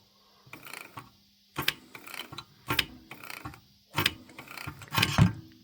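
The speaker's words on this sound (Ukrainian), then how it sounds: "Так, це так буде працювати наш клапан Єгер." A cleaned EGR valve from a 2015 Opel Astra J is worked by hand, giving about six evenly spaced bursts of mechanical clicking and whirring, each followed by a short silence.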